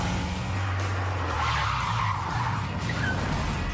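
A German car skids through a dusty no-handed drag race, its tires squealing in a loud, sustained screech with engine roar underneath, close and continuous for a few seconds.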